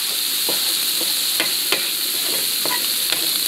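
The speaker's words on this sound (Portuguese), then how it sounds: "para ela continuar grelhando." Meat frying in a paella pan for a country-style paella, with a constant loud sizzle broken by a series of quick scraping stir strokes pushing the pieces aside.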